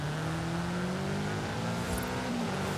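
A car engine in a racing video game drones steadily, its pitch shifting slightly as it revs, with a continuous rough road and engine noise throughout and no voices.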